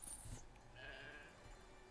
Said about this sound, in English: it's a sheep with, like, little fairy wings and sparkly wool